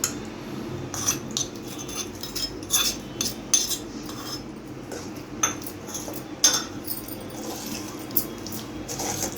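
A spoon clinks and scrapes against a steel bowl while tempering is stirred into cooked mango pickle with crushed garlic, giving intermittent soft metallic taps over a faint background hiss.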